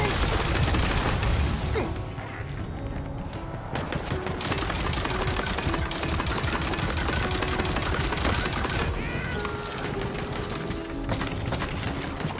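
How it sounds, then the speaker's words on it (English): Gunfire from the Tiny Tina's Wonderlands video game rattles on as dense, continuous rapid shots mixed with game effects and music, loud throughout. "Gonna shoot my way through."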